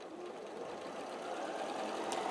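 A sewing machine runs steadily, stitching folded fabric over a seam; a close, continuous mechanical whir holds at an even level throughout, with no talking.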